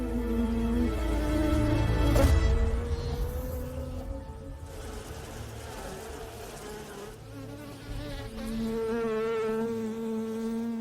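Insect buzzing near a bee colony's hive, with a large hornet hunting among the bees: close, droning wingbeats that rise and fall as insects fly past, with no voices.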